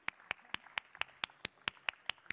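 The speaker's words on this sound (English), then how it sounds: "Please give a round of applause for all of our panelists." Clapping at a Bangladeshi community event in Europe for a panel, with about eleven evenly spaced sharp claps close by, too regular for a crowd.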